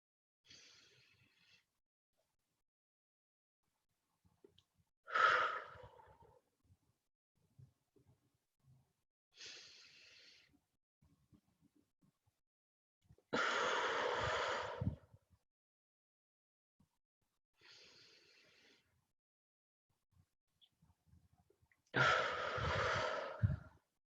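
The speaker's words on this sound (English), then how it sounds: "We'll breathe in, hold it, breathe out, hold it." A group does a slow breathing exercise together, long audible inhales and exhales spaced several seconds apart with quiet holds between, soft breaths alternating with louder, airy exhalations in a hushed room.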